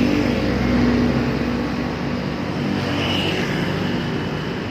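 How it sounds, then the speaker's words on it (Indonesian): A Primajasa medium bus driving past at night in Nagreg, a steady engine and road roar close by with a low hum, slowly easing off without any clear rise or fade. "Ada medium bus kecil nih, apa ya? Oh, Prima Jasa."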